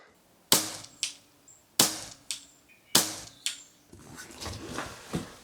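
A second-hand Weihrauch HW77 air rifle fires three sharp, close shots about a second apart, each followed by a quick metallic echo or impact, then fainter clatter and handling noise.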